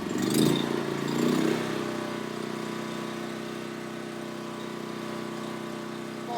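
An HSS engine idles at about 2,000 rpm with a steady, even hum, a little louder and rougher for the first second or two, then settling.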